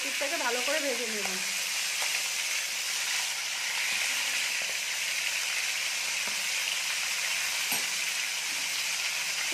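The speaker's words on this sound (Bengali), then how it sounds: "এখন আমরা এই পিসটাকে ভালো করে ভেজে নেব।" Chicken leg pieces sizzle steadily in hot oil in a pan, a constant bright frying hiss with occasional pops and stirring clicks, close and continuous, with a brief voice at the start.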